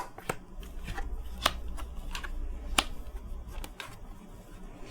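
Tarot cards being shuffled by hand, a run of crisp riffling snaps and slaps at irregular intervals, close and clear with a faint low hum beneath and no talk.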